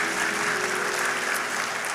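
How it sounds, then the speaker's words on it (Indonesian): A church congregation breaks into continuous applause during a sermon, a dense, even wash of clapping that holds steady from start to finish with a faint tonal hum underneath. "Kok tidak ada tepuk tangan buat Tuhan?"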